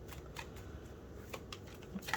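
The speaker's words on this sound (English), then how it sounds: "if I can get the cards to shuffle" A deck of cards is shuffled by hand in a quiet room, giving faint, soft riffling and light flicking snaps spread over a couple of seconds.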